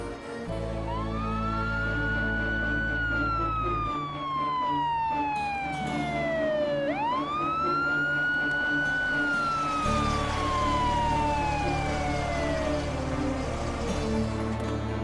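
An ambulance siren wails loudly in long rising and falling sweeps, rolling steadily over the low rumble of traffic.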